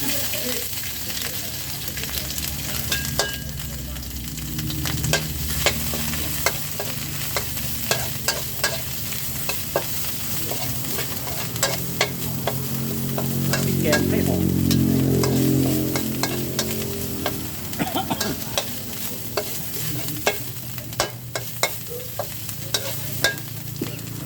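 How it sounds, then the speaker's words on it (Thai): Fish stir-fried in a wok with red curry paste, a continuous sizzle broken by frequent spatula scrapes and clicks, swelling louder midway as the frying intensifies. "เราจะผัดแบบพริกแกง"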